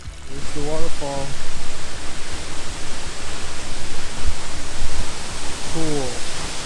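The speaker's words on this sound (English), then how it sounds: "Here's the waterfall." An Ozarks waterfall roaring as a steady, loud rush of water close by, filling the whole scene, with a person briefly speaking over it at the start and end.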